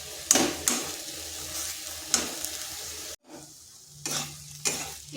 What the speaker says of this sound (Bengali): এটাকে বেশ কিছুক্ষণ এইভাবে স্লো আঁচে রান্না করে নিচ্ছি